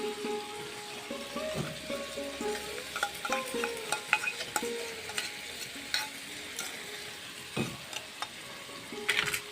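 Spice powder mixed with water goes into a pan of frying onions and sizzles softly, with stirring and scattered clinks of a spoon against the pan, close and fairly quiet.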